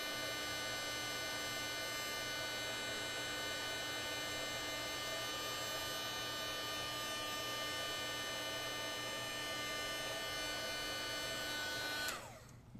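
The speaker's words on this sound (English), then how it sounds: "so I've stopped the heat gun" A heat gun runs steadily, melting powder coating, its airflow hiss and motor whine holding constant before cutting off abruptly near the end.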